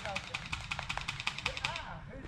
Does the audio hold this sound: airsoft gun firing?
yes